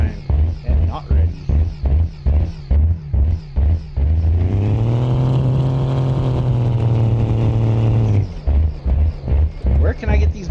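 A pulling truck engine in the BeamNG video game chugs in rapid rhythmic bursts, then swells into a long, loud sustained rev for several seconds before dropping back to pulsing idle.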